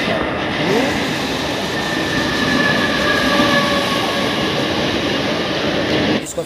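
Train pulling into Thane station, a loud close rumble of rail wheels and carriages rolling past with faint squealing tones, holding steady before cutting off abruptly near the end.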